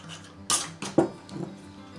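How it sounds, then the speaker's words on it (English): A lid is fitted onto a container of rum with oak chips, giving three quick knocks and clacks close by in an otherwise quiet room. "We're going to put the lid on her."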